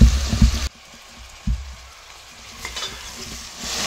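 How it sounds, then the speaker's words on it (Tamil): Mushrooms sauté in a pan for pulao, opening with a loud stirring scrape and sizzle that drops to a softer, steady frying hiss with another brief stir midway. "காளான் நல்லா வதக்கி விட்டுக்கலாம்."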